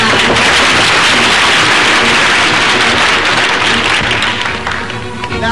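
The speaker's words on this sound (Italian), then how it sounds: "Dato che questi applausi sono a pagamento" Theatre audience applauding in a sustained, loud wash of dense clapping that holds steady for several seconds, then eases slightly near the end, with no voices over it.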